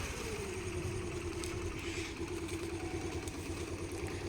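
A scooty scooter engine hums during a driving lesson, a steady idling drone with the pitch rising gently as the throttle is eased, close and continuous.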